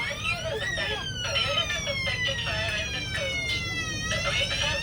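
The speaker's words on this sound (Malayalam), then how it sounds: "ഈ കോച്ചിൻ്റെ അകത്ത് ഒരു അലാം കേൾക്കുന്നുണ്ട്." A smoke alarm rings inside a train coach on the Guwahati to Sairang Express, set off by cigarette smoking in the toilet, its steady high electronic tones sounding under loud train rumble and faint voices.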